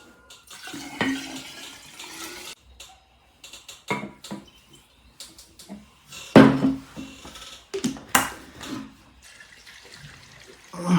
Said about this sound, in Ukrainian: Заливаємо спирту воду.